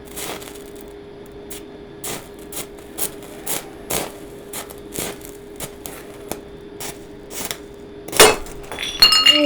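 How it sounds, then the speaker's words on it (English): A large street-salvaged floor tile cracks and shatters from the heat of heavy 650 A welding, giving a sudden loud snap and crunching break after a string of sharp, repeated clicking crackles. "My tile just broke"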